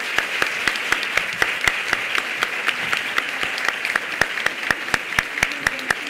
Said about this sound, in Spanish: aplauso muy fuerte para Marisol.